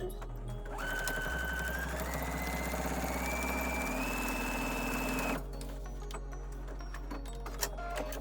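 A sewing machine stitches along the edge of a sling tote bag, its motor whirring steadily at close range for several seconds, rising slightly in pitch, then stopping abruptly.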